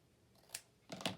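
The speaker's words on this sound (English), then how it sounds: "And we gotta cut the corners." Scissors snip corners off a piece of craft material, two quick close cuts, the first short and crisp and the second louder and brighter.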